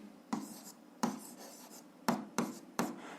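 Pen or chalk strokes scratch and tap while an algebra equation is written out, in short bursts of scraping with a few sharp taps, close and alone.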